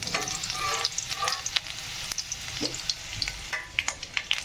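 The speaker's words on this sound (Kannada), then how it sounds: "ಎಣ್ಣೆ ಕಾದಾದ್ಮೇಲೆ ಜಿಂಜರ್ ಗಾರ್ಲಿಕ್ ಈ ಥರ ಕಟ್ ಮಾಡೋದು ಹಾಕಬೇಕು. ಫ್ರೈ ಮಾಡ್ಕೋಬೇಕು ಸ್ವಲ್ಪ." Chopped ginger and garlic fry in hot oil with a crackling sizzle. Stirring scrapes break in at irregular intervals, loud and close.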